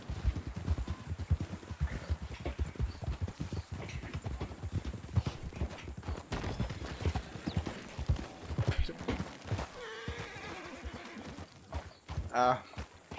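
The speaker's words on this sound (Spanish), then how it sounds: "Por un momento he tenido un caballo encima mía." Horse hooves clip-clop in Red Dead Redemption II, a fairly close, rapid run of hoof strikes alongside game ambience, with a brief whinny-like call near the end and a player's voice talking over parts of it.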